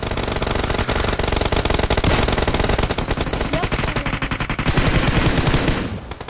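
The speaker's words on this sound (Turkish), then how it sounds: "Adamın kafasına nasıl kar vurdum ya" Dense, rapid gunfire from the PUBG Mobile video game, a Kar98 sniper rifle in the mix, crackling loud and continuous for several seconds before tapering off.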